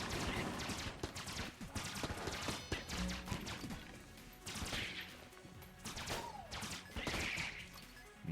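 Rapid weapon gunfire in the roguelike shooter Enter the Gungeon crackles in dense, irregular bursts of sharp shots, with impacts and game effects layered throughout at fairly low volume.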